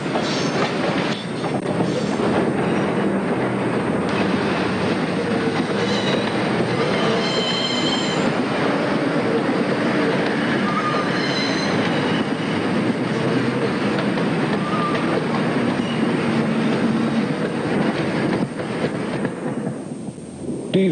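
A Kowloon-Canton Railway train headed by old diesel locomotive number 51 and banked by number 52 rumbles loudly past, its wheels rattling and squealing in a continuous roar that fades at the end.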